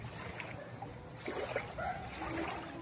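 Floodwater flows through a street with soft, uneven trickling and gurgling. The sound stays fairly faint and close and carries on without a break.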